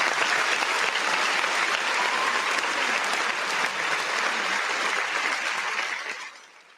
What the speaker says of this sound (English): let's give Zavada a round of applause